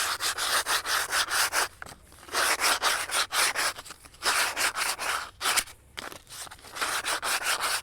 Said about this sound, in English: use your sandpaper to rough off any of these edges